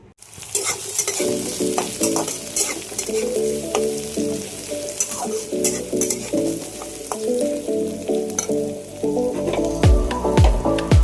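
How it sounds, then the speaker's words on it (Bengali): Snake gourd drops into hot oil over fried onions, setting off a loud, continuous close sizzle with rhythmic clattering stirs and scrapes in the pan, and no voice present. "পেঁয়াজগুলো ভাজার পরে এখন চিচিঙ্গেটা ওর মধ্যে দিয়ে দিচ্ছে"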